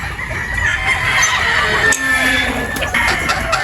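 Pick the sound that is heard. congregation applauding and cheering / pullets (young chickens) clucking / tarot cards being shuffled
pullets (young chickens) clucking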